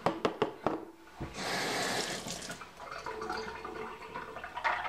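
Liquid pours and splashes off goat's milk butter into a sink or container, a brief rushing stream after a few sharp knocks, followed by quieter trickling and drips close by.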